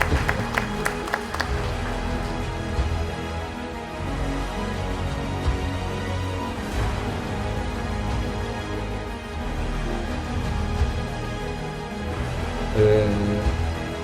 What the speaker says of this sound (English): I ask you an applause